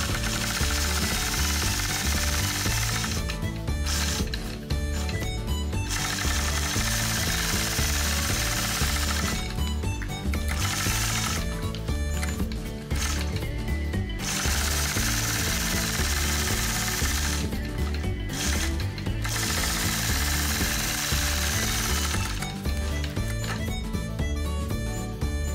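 A sewing machine quilts along a ruler, running in a continuous loud mechanical whirr with rapid stitching pulses and brief stops and restarts, close by with no speech.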